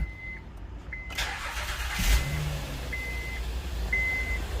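A Honda Pilot 3.5L engine idles and warms up during a coolant system air purge, with a steady low rumble and a brief rise near the middle. Faint intermittent beeps sound above it.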